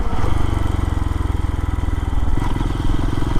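A Kawasaki KPX250 motorcycle engine runs at about 70 mph, its loud, rapid pulsing exhaust close and steady, with a slight shift in pitch partway through.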